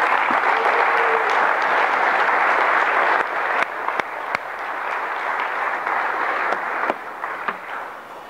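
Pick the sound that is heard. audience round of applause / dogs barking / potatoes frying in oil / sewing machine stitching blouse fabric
audience round of applause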